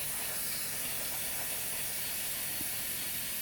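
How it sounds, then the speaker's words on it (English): A steady, quiet hiss of spray paint on an Airfix Sabre model kit runs unbroken from start to finish. "You can see there spraying as well"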